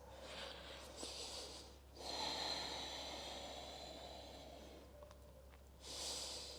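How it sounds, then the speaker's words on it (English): Long, deep breaths drawn in and out through the nose during a yoga session, soft airy swells that rise and fall slowly several times, close and quiet with no talking. "Long and deep breaths through the nose."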